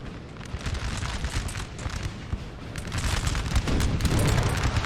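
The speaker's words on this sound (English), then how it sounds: "Oh, that artillery, though, is really brutal." Booming cannon fire and explosions from Napoleonic-era artillery in Napoleonic Total War 3, a rumbling barrage that swells louder toward the end, with no talk.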